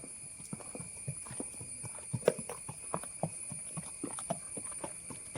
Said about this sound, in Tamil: இந்த மாதிரி நேச்சுரலான காட்டு பாதையில் இந்த மாதிரி குதிரை சவாரி போகிறது